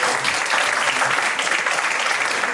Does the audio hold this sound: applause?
yes